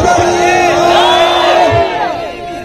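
A loud crowd at the final of a local Shaikh Super League sports tournament roars and shouts in unison, with strained cheering voices swelling close and then easing off, while a voice also speaks.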